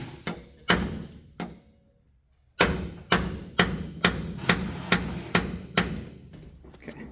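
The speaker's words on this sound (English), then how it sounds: "Got the hammer." A hammer strikes the stuck mirror bolts on an old 1954 Chevy 3100 pickup truck: a few sharp metallic blows, a short pause, then a quicker run of about nine close, ringing hits.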